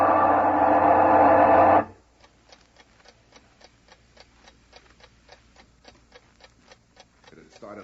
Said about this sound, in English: by the big noisy alarm clock on the chair by my bed